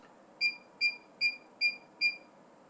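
A SmokeSight SS10MAMA wired and wireless smoke alarm gives five short, evenly spaced electronic beeps, clear and close against a quiet background.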